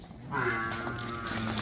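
A Murrah dairy buffalo, pregnant and giving about 12 litres of milk, lows in a long, steady moo with a few low-pitched calls over farm background noise, close by and fairly loud.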